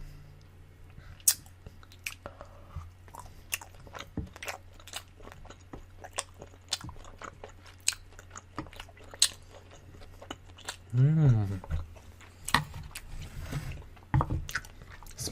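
Spicy Korean noodles are eaten with close, wet chewing and biting, plus repeated sharp clicks and a brief squish, quiet and alone without talk.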